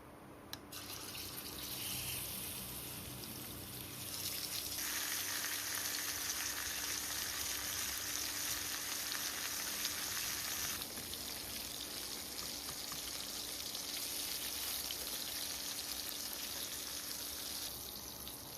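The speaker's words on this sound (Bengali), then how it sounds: "কড়াই গরম হয়ে গেছে, এখন তেল দিয়ে দেব মাছটা ভেজে নেওয়ার জন্য।" Hilsa fish fries in hot oil in a wok (kadai) in a home kitchen, giving a steady, loud, hissing sizzle that swells slightly partway through and carries on unbroken with no one talking.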